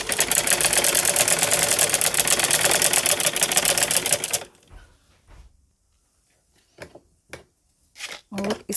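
Sewing machine running steadily as it stitches a round fabric strip onto a neckline, a dense rapid whir lasting several seconds, then stopping abruptly and giving way to near silence with a few faint clicks and handling sounds.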